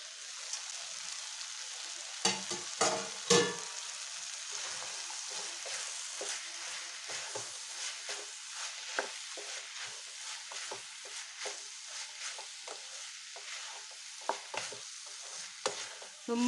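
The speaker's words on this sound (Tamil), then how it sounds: "ஒரு 5 நிமிஷம் நல்லா கிளறி விட்டு ட்ரை பண்ணிடலாம்." Soya chunks, capsicum and green peas stirred and frying in a pan: a soft continuous sizzle broken by repeated sharp scraping strokes of the spoon, close and fairly quiet, with no voices.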